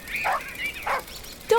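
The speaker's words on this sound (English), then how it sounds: "Dog." A dog gives a couple of short, yippy barks close by, with small whimpering tones between them.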